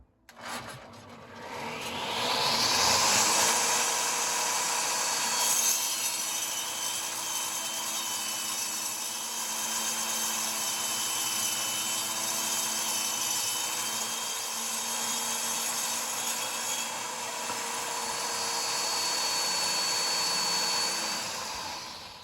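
An old Craftsman table saw spins up and makes a test cut through wood, a steady high whine and rasping cut sustained for around twenty seconds, close and alone without talking.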